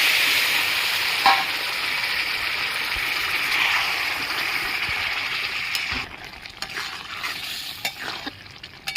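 Chana dal is stirred and fried in a hot pan, a loud steady sizzle with scraping stirs that drops to quieter crackles and spoon scrapes toward the end.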